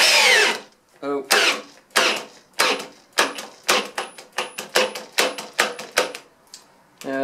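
A ToolPRO 18v hammer drill drives a batten screw in short, stuttering bursts, its motor whirring and hammering in quick repeated pulses close by, with brief pauses between runs.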